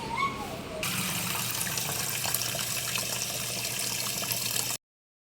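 Tap water gushes steadily and close by, filling a container for a group of cats, with a brief sound at the start before the flow cuts in and then stops abruptly.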